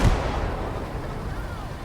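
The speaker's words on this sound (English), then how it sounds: "That is an anti-tank gun." Anti-tank gun firing in a World War II video game, a single heavy boom at the start followed by a rumbling decay and battlefield noise, loud and close.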